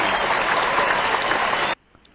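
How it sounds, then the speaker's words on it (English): Dense, loud applause from a basketball crowd at an Orlando home game, steady for under two seconds, then cutting off abruptly into near silence. "give you a roaring round of applause right out of the gate there"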